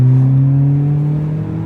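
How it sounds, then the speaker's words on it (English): A Renault Clio 3 RS 197 accelerates hard in second gear, its engine note loud, close and steady, rising slowly in pitch over about two seconds with no talk over it. "and I can do a little pull in second gear"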